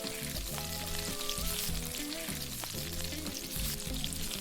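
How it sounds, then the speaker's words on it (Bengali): Egg pakoras deep-frying in hot oil in a home kitchen, a continuous bubbling sizzle with small crackles and pops, close and steady, while tonal background music plays underneath. "পকোড়াগুলোকে আমি এরকম ভাবে লাল লাল করে ভেজে নিয়েছি।"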